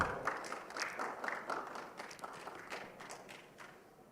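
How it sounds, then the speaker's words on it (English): Applause at a youth entrepreneurship and finance event, fairly quiet clapping from a small group, with a pulsing rhythm that fades slightly over four seconds and no talking. "A round of applause."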